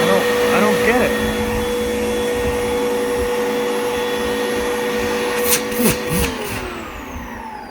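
A Rubbermaid MH12 vacuum cleaner runs steadily and loudly with a sustained whine throughout, then its pitch sags toward the end as a few brief clunks sound.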